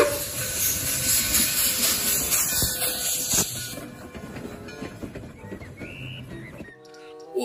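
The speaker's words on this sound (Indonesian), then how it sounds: "Yang ini kereta api." A toy train runs with steady hissing and mechanical rattling, fairly loud and close, and a short tonal sound near the end; no one speaks.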